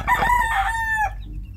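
A rooster crows loud and close in one drawn-out call that tapers off, set in a small backyard chicken farm.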